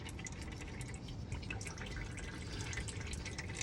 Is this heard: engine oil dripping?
yes